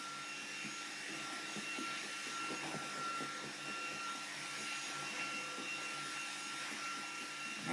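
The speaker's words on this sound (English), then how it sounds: "Sorry about the vacuum cleaner noise." A vacuum cleaner runs continuously nearby with a steady whooshing roar and a faint high whine, no voices over it.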